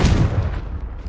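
A Confringo spell in Hogwarts Legacy explodes in a single deep, loud boom that rolls off quickly into a fading rumble.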